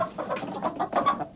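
Hens cluck close by in a rapid, uneven run of short, fairly loud bursts that continue without a pause, with no one talking.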